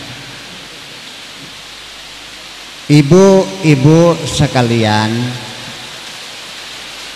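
Heavy rain pours as a steady, loud broadband hiss throughout, with a man briefly addressing a gathering over it.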